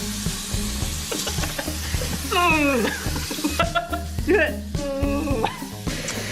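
Pieces of sausage and mushrooms fry in a pan with a steady, loud sizzle up close. Rising and falling whining tones sound over the frying.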